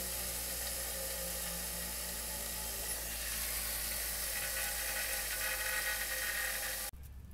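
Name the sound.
ratchet fastening trailer hitch bracket bolts to frame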